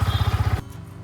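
A motorcycle engine, apparently a Royal Enfield Himalayan, puttering in a fast, even rhythm up close, then cutting abruptly to a quieter low hum partway through.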